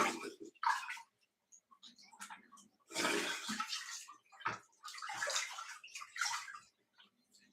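Salt water sloshes and splashes in a bath as a person dunks into it, with bursts of pouring and gurgling separated by quiet gaps, fairly close and soft overall.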